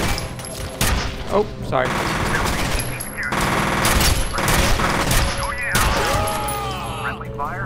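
Loud, sustained machine-gun fire and scattered gunshots fill a firefight in the video game F.E.A.R., nearly continuous across the stretch, with a person briefly speaking over the shooting.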